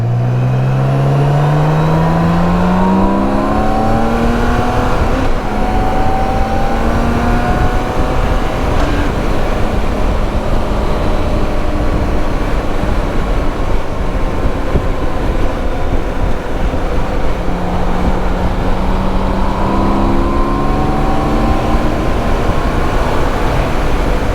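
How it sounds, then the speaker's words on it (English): A BMW K1600 GTL motorcycle accelerating hard, its six-cylinder engine note climbing through gears in rising sweeps, loud and steady with wind roar, then easing and building again. "I love that acceleration."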